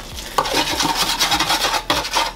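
Cooked potatoes tumble into a hot pan and get stirred and scraped, a close, loud mix of rough rasping strokes and soft sizzling with a couple of sharper knocks against the pan.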